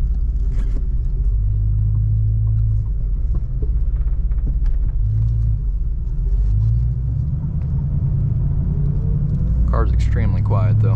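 A 1982 Mercury Cougar XR7 cruises just after a downshift out of overdrive, its low steady engine rumble running throughout with road drone, and someone talks over it near the start and end.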